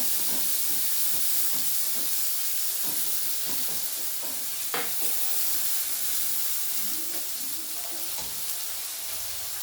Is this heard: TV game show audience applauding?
no